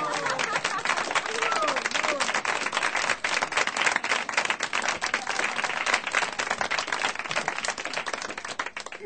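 Audience applause at a Slydini knotted silks magic show: a sustained, crackling patter of many hands clapping, steady and moderately distant, with crowd murmur and a voice underneath.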